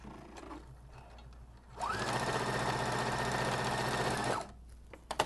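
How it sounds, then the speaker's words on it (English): A sewing machine runs a simple gathering stitch on a dress in one steady, close whirring burst of about two and a half seconds, with quiet handling noises before and after. "Just going to sew a simple stitch, do not back stitch."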